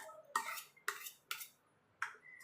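A spoon stirs mango kheer in a pan over a low gas flame, giving four spaced metallic scrapes and clinks against the pan, close and fairly quiet, with no talking.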